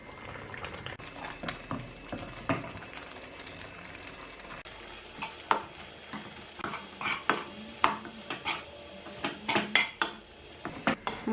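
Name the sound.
stirring semolina into boiling chicken upma in a pan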